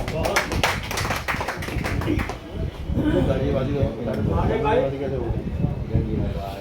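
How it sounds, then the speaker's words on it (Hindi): Audience at a mushaira, an Eid-ul-Fitr poetry gathering at a residence, claps to welcome a poet, dense rapid applause rising early and thinning out, with voices talking over it. "एक जोरदार तालियों से उनका खैर मकदम है।"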